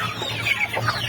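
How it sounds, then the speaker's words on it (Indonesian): Farm chickens cluck and chatter in a dense, continuous flock sound, close by and fairly loud, with overlapping calls and no talking. "Ayam-ayamnya ini."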